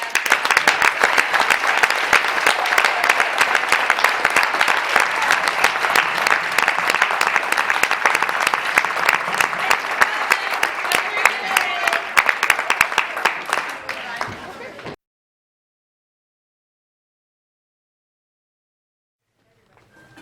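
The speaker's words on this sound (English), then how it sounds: "We'd just like to give one more round of applause for the cast." An audience gives a school spring musical cast a long, loud round of applause, dense and steady clapping with crowd murmur, lasting about fifteen seconds before cutting off to silence.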